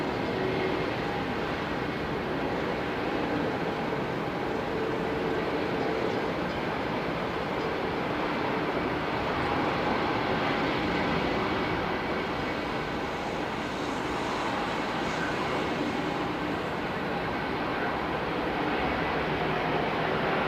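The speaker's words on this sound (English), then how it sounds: "Have you managed to catch the howl these create, the engines?" Jet airliner engines at Melbourne Airport give a sustained, loud broadband roar with a steady howl running unbroken throughout, with no talking over it.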